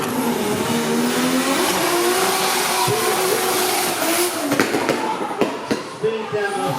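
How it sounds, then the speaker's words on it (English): A drift car at a qualifying round of a drift series in Miri, Sarawak roars at high revs, then shifts into second gear, ending in choppy bursts and pops as the throttle changes, loud and close. "Chugging into second gear."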